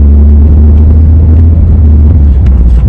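Steady low rumble inside a car while driving, loud and continuous road and engine drone without talk.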